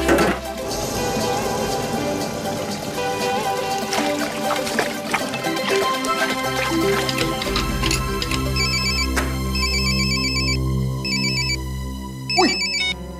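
A telephone ringtone plays loudly and steadily for about thirteen seconds, a repeating electronic melody with no talk over it.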